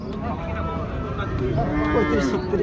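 Cattle moo at a busy livestock market in Rajshahi, with several low, drawn-out calls rising over a dense background of crowd noise and voices.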